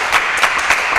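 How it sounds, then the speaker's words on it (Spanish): Studio audience applause on a Spanish television talk show, a steady wash of many hands clapping at moderate loudness for the whole second, with no voices over it. "Un aplauso para ellos."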